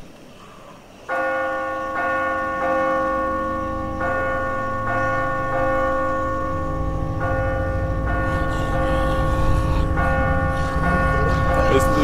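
A church bell in a bell tower in The Walking Dead video game tolls in a loud, steady series of ringing strikes whose tones linger and overlap, while low game noise rumbles underneath.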